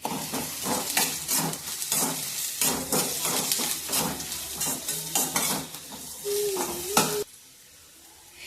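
Onions sauté and get stirred in a pan for a vegetable stew, kept from browning: steady close sizzle with a rhythmic run of scraping spoon strokes, then the stirring stops and only a faint hiss remains at the end.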